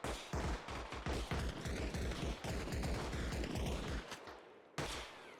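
Machine gun fire in the military game Arma Reforger rattles in long, loud, rapid bursts, with dense overlapping volleys, a short pause, and another burst at the end.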